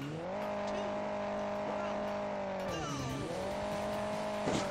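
Quad bike engine in Hill Climb Racing 2, a steady droning motor tone that dips in pitch midway then climbs again, loud and continuous throughout with game sound and possible background voice.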